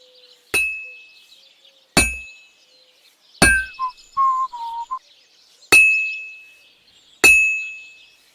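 Metal is hammered at a smithy in the video game Kingdom Come: Deliverance II: five sharp, ringing clangs fall at uneven intervals, with a short tonal hum between the middle strikes.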